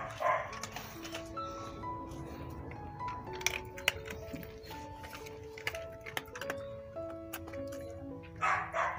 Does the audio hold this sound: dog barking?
yes